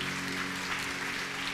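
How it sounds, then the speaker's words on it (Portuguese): A church congregation applauding during a sermon, a continuous dense wash of clapping at moderate level filling the whole brief moment. "Então aplauda o Senhor por isso."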